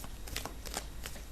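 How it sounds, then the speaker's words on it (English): Tarot cards shuffle close to the microphone in a few quick riffling bursts, crisp and papery, with short pauses between them. "we'll get the cards shuffled out for you for this month"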